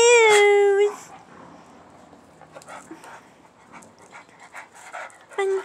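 A pet dog at home panting, with a long high whine at the start and another at the end, soft breathing and shuffling between them, under a person's voice.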